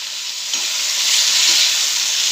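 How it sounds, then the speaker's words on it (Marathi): Chopped onions fry in a hot pan for fried rice, giving a loud, continuous close-up sizzle that swells slightly as it goes. "कांदा चांगला फ्राय करायचा आहे"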